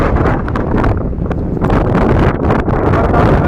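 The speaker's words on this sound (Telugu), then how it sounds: "అంత ఘనంగా ఉంది గాలి అయితే ఇక్కడ" Strong wind buffets the microphone on a hilly mountain road toward Kathmandu, a continuous loud roaring rumble with gusty surges and no other sounds.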